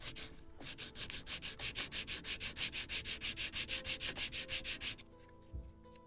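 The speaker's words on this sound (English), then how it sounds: "it can be done with a sanding block" A sanding block rubs back and forth over wood on a model ship kit, about twenty quick, regular strokes in a steady rhythm, close and clear, before stopping abruptly.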